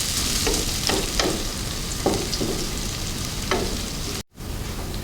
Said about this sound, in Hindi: ये देखिए जी, तेल गर्म हो गया हमारा। एक प्याज है छोटी, ये छोटा प्याज मैंने लिया, और थोड़ा सा फ्राई करना।